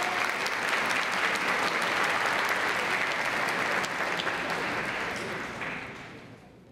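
Guests at the 2022 Miss SAKE Japan final selection event applaud to welcome the toast-giver, a full, steady burst of clapping that stays even for several seconds before fading away.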